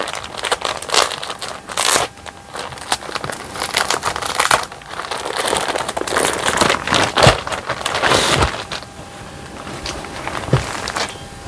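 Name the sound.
opening plastic packaging of bedsheets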